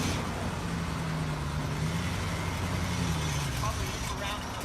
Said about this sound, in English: So he's going to take it for a ride down the street.